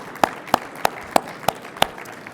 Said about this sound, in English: let's give one final round of applause to all of our 10 finalists